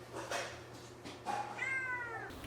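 Cats meowing at a feline rescue center, a few close, clear meows in quick succession over low background hum, no talking.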